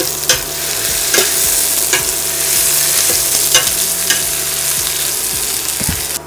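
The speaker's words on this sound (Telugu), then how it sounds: "అండ్ దెన్ మనము ఆనియన్స్ వేసేసుకుంటున్నాము." Finely sliced onions fry to brown in a pan with a loud, steady sizzle and intermittent stirring scrapes, close up, with no talking.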